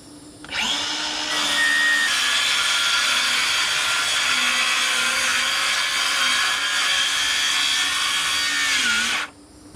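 Power saw cutting wood for a van kitchen fridge cabinet, one loud continuous whining cut of about nine seconds that starts and stops abruptly, close up with no talking.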